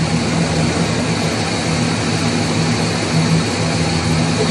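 A Chevrolet 350 V8 idles with one cylinder cut out of the firing order during an intake manifold gasket check, giving a steady, loud low engine drone with a faint rhythmic pulse throughout and no talking.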